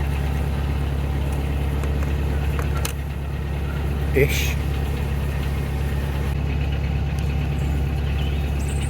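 Steady low boat engine idle at about 1000 RPM, rumbling continuously throughout, with a brief knock partway through and faint talk in the background.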